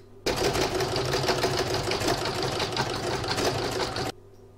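Embroidery machine sewing a zigzag stitch on a spider web design, a steady fast mechanical whir that starts abruptly, runs for about four seconds close up and stops cleanly.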